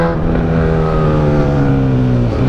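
Honda CB 1000 motorcycle with a straight-pipe exhaust revving close by, a loud deep throaty engine note held steady then dipping briefly near the end.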